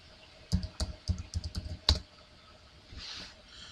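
Typing on a computer keyboard produces a short run of about ten close, crisp key clicks in an uneven rhythm, followed by a pause and a faint soft rustle, with no talking.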